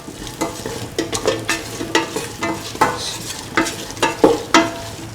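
Mung beans and ivy gourd mixed with rice, stirred in a pan with a spoon: repeated scraping strokes at an uneven rhythm over a faint sizzle, close and fairly loud.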